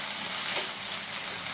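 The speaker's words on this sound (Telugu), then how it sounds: "మెంతాకు కూడా ఫ్రై చేసేసుకున్నాను." Fenugreek leaves fry in hot oil with a steady, close sizzle and faint stirring, continuous and fairly quiet with no voices.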